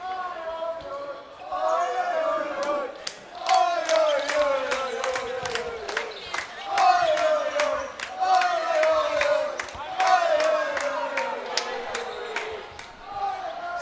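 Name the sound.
Swedish fans cheering at a dodgeball match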